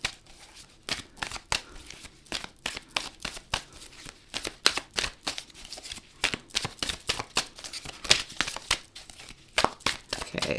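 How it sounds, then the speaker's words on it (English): A deck of tarot cards is riffled and shuffled by hand close up, with bursts of crisp papery flutters and slaps repeating irregularly for about ten seconds, with no talking. "I'm going to give these a quick shuffle."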